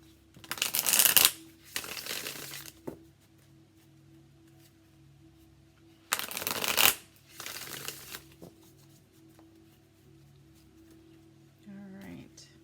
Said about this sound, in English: I cannot help it but shuffle a little bit more.